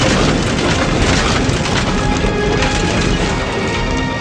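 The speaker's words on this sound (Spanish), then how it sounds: "una violenta explosión sacude el avión" A loud, continuous crashing roar with splintering and banging as an airplane's left propeller breaks apart and tears through the aircraft, like a violent explosion, dense and sustained throughout.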